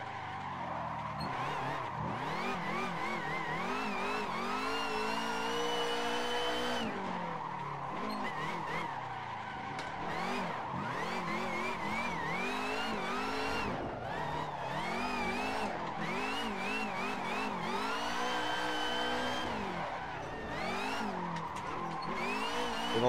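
A sim racing car brakes hard with an analog handbrake, the wheels locking and squealing over a steady engine drone. The tire noise comes in repeated long skids throughout, loud and continuous, with no talk.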